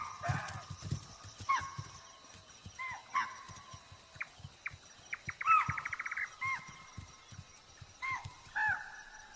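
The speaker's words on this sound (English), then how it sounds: "the deer respond to the tiger's presence, barking warning calls loud and clear" Deer bark alarm calls at a tiger from the long grass, sharp repeated cries spaced a few seconds apart, some in quick bursts, with faint bird chirps and rustling between them.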